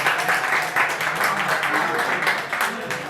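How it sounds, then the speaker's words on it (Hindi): Open mic poetry audience in Rajkot breaking into loud applause, a dense continuous roar of clapping and crowd noise filling the short stretch without pause. "एक बार जोरदार तालियां।"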